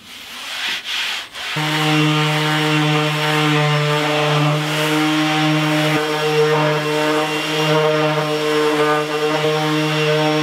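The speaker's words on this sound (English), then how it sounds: "Sanded the back of those paddle blades, got rid of all those rough jaggedy edges" A power sander grinds on wooden canoe paddle blades, starting with a few short bursts before settling into a loud, steady whine with a strong hum that continues unbroken to the end.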